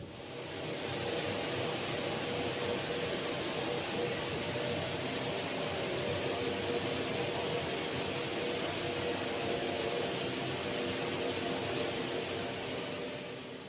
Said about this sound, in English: See knitting process running here.